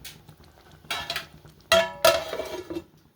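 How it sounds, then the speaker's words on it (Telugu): A metal lid set onto a pot of village-style dried fish and taro curry, several close metallic clanks and scrapes in short bursts, with the loudest ringing clatter near the end. "ఇలా మూత పెట్టేసి ఒక రెండు మూడు నిమిషాలు వదిలేద్దాం"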